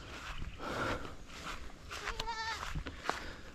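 A goat bleats loudly and close by, a quavering, pulsing cry amid other goats and kids being herded along a farm path, with rustling movement and a few shorter bleats around it.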